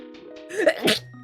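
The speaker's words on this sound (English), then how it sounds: "I gotta sneeze" A single close, sharp sneeze from a streamer during an A Link to the Past Randomizer session, preceded by a brief gasping build-up over soft sustained game-music tones.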